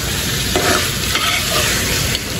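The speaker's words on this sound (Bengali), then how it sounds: "পটলটা দিয়েও কিন্তু কিছুক্ষণ কষাবো" Pointed gourd and potato curry sautéing in hot oil in a pan: a loud, continuous close-up sizzle with constant stirring and scraping, and no voices.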